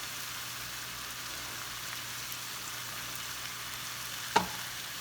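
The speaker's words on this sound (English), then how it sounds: "When I'm using tomato paste, I like to actually brown it a little." Tomato paste browning in a pan gives a faint, steady sizzle, with one sharp clink of a utensil near the end.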